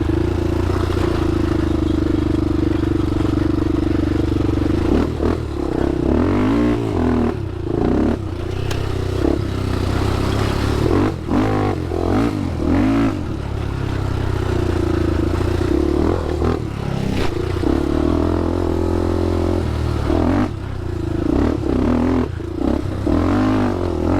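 A 2007 Honda 400ex quad ridden along wooded trails, its engine droning loud and close with revving surges, clattering and scraping over rough ground.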